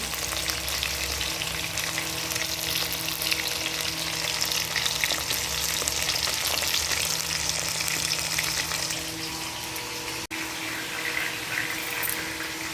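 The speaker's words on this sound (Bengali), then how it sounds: "এই যে মাছের মাথাগুলো ভাজা হচ্ছে এখন" Hilsa fish heads fry in hot oil in a wok, giving a steady, close, dense sizzle that holds evenly throughout with no talking.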